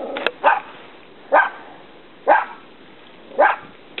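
A dog barks four times at a mail carrier at roughly one-second intervals, each bark sharp and fairly loud, with quiet gaps between.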